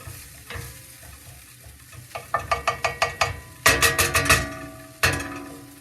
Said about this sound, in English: we're just going to mix that flour in with the pico